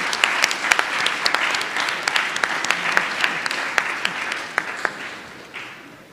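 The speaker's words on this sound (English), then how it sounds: "A round of applause, please." Audience applause at a memorial lecture series, a moderate crowd clapping steadily for about six seconds, with a few loud nearby claps standing out before it thins and fades at the end.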